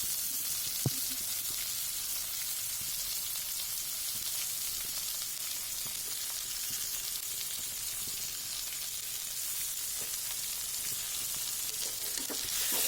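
Steady, even sizzling of chicken frying with spices in a hot wok, with occasional soft scraping and clinks of stirring, close and continuous.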